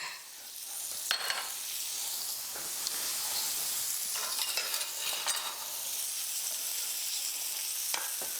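Brambles warming in a hot pan give a continuous close sizzle and hiss, with light stirring scrapes and small crackles over the top and no talking.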